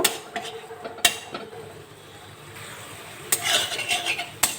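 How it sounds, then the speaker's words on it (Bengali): Spices with cumin and coriander powder sauté in a pan, heard as clattering metal spoon strikes and scraping stirs over a low sizzle, with a few sharp knocks against the pan, close by and without talk. "মশলাগুলো ভালো করে কষিয়ে নেব"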